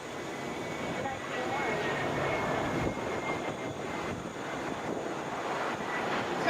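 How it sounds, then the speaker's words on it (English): A Delta Boeing 717 airliner arriving from Baton Rouge at Atlanta airport, a broad steady jet roar mixed with wind noise on the microphone, fairly loud and sustained, with a voice speaking over it. "Coming in right now, this is Delta Flight 2621 coming from Baton Rouge, Boeing 717"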